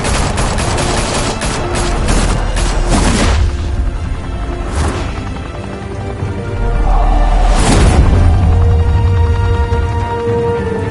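Gunfire in the video game Batman: The Telltale Series: loud, sustained automatic fire with booming impacts that swells and eases across the stretch, heavy and close throughout.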